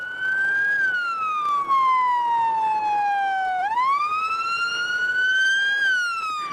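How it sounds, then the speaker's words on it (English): An emergency siren wails loudly in New York City streets on September 11, 2001, its pitch sliding down slowly then rising again, over a steady low rumble of city traffic. "the constant wail of sirens fills the wide avenues and narrow streets"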